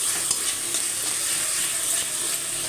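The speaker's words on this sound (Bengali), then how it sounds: "যতক্ষণ না মশলাটা তেল ছাড়ছে ততক্ষণ কষবো" Masala paste for ghugni, a pea curry made with coconut, sizzles steadily in hot oil while being stirred, a close, continuous frying hiss with no talk.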